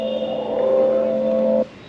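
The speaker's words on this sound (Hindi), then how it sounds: "हाँ, तो ये है विंटेज का साउंड," Vintage mode synthetic mood sound from an Ola electric scooter running MoveOS 3.0, a steady engine-like tonal hum held loud and alone for about a second and a half before cutting off abruptly.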